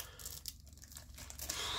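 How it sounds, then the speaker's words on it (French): Plastic shrink wrap is torn and crinkled off a sealed Mario Kart World box for the Nintendo Switch 2, a close, quiet run of ripping and crackling rustles that sharpens into a brighter tear near the end. "On va ouvrir mon premier jeu scellé de la console."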